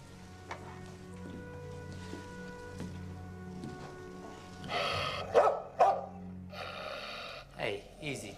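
A dog barks inside an apartment during a DEA search, letting out a short burst of several loud barks midway over a quiet, low background, with voices faintly around it.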